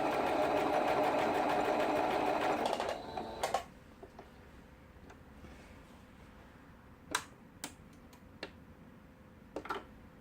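A Singer sewing machine running a zigzag stitch along a fabric edge, a loud rapid mechanical chatter for about three seconds, then stopping, followed by scattered clicks and light handling taps.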